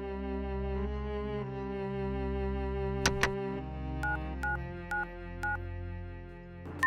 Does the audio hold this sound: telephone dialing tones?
yes